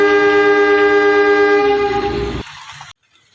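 A toy electric train sounds its loud, blaring horn in a sustained, harmonically rich blast that holds for over two seconds, then cuts off abruptly, leaving a short, faint tail before near silence.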